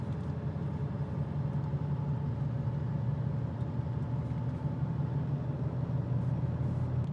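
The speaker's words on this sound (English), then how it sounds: "As I just do a gentle acceleration, it's nice and smooth." A Mitsubishi Triton (Challenger) MN automatic pickup accelerating gently, with a steady, smooth low engine drone heard from inside the cab and no gear-change jolts, held even throughout.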